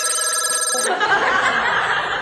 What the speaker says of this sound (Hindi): तेरा फोन बज रहा।